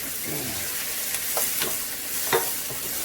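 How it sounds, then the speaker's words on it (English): Onion and garlic sizzle steadily in a pan for an Indian-style lobster curry. A few light scrapes of stirring sound over the even frying hiss. "I like to make the garlic a little bit brown. Then I add some onion."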